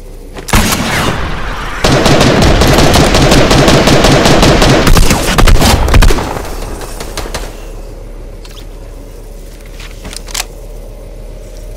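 Rapid automatic gunfire from a weapon in the video game Fortnite, loud sustained bursts for several seconds, then a few scattered, fainter shots over a low background hum.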